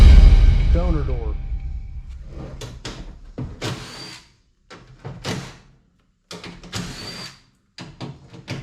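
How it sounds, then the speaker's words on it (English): A 1995 Nissan Pathfinder WD21 power window on a spare donor door, with its regulator motor whirring in several short bursts separated by pauses. Someone talks at the start. "we have to roll the window down in order to unhook the window for the regulator"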